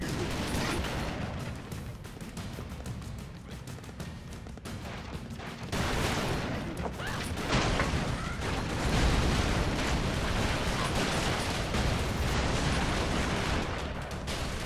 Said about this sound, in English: It's like where all the explosions are kind of like screwing you over.